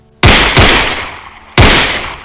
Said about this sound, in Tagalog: sa 3 putok ng baril.